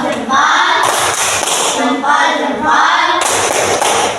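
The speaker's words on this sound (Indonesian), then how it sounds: "Beri tepuk salut." A class of students performs a rhythmic salute clap in a classroom, loud and close, with sharp bursts of claps and voices chanting along in between.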